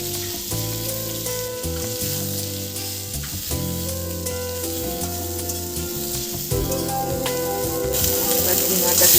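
Cut potatoes and vegetable stalks frying in a pan, a continuous sizzle with light stirring beneath loud tonal music that runs throughout.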